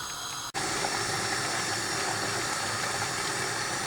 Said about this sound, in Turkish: Domateslerimiz pişene kadar kaynatıyoruz.